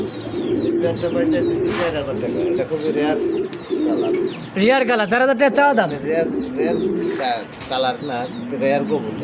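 Pigeons at a dealer's stall coo repeatedly in soft, rolling phrases, with people talking over them throughout.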